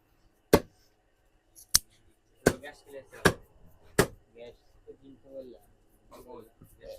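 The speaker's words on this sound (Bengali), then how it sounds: "এখানে তো পেঁয়াজ কাটা হচ্ছে রান্নার জন্য" Onions being chopped for cooking in a restaurant kitchen, a handful of sharp separate knife strikes at irregular intervals, with people talking quietly between the cuts.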